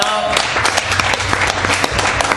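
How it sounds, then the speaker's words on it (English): A New Year's Eve bar crowd applauds, dense steady clapping with a few louder individual claps and some voices underneath. "let's put a big round of applause together here for Dave."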